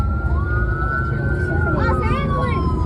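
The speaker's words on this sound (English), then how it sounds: "Oh, it's an ambulance." Ambulance siren passing at a car show, a steady wailing tone that gently falls in pitch, fairly loud over constant crowd murmur and low rumble, with a second rising wail joining near the end.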